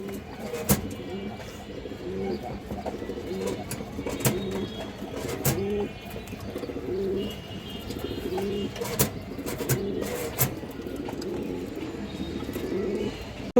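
Several pigeons, including a lively male of an old breed, coo in soft repeated rolling calls alongside occasional sharp knocks and rustles, moderately close in a steady background.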